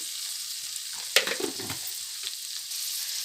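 Flattened rice upma is mixed in a pan over a continuous frying sizzle, with a sharp utensil clink followed by a short burst of scraping stir strokes, close and clear, with no voices.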